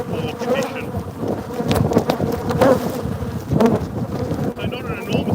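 Honey bees buzz densely around an open hive being fed, with a loud close droning hum and individual bees zipping past, occasional knocks of frames and wooden hive parts, no clear speech.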